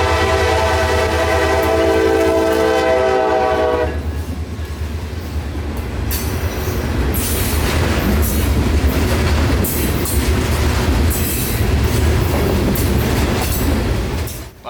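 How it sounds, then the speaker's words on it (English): A Rock local freight train passes close by with a loud, sustained horn blast at the start, then heavy rumbling, rhythmic wheel clatter and squealing wheels rolling continuously past. "the train was on our tail the entire way down"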